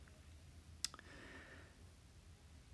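A single sharp computer mouse click, quiet and close, followed by a faint softer tick against a low background hum, no talking.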